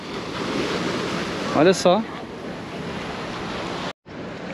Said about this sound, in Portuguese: E a praia dos pescadores aqui de Albufeira.